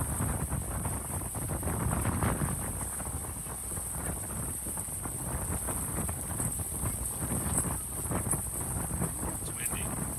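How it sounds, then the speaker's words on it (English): Steady wind buffets the microphone with broadband rumble at Magic Kingdom, while faint voices and background noise murmur underneath throughout. "It's windy."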